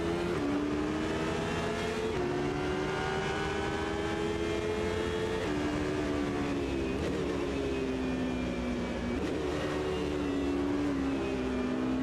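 Race car engine in the Automobilista 2 sim racing game, 2005 endurance cars, heard from the cockpit as a loud, steady high-pitched whine that rises and falls with gear shifts, alone without talk.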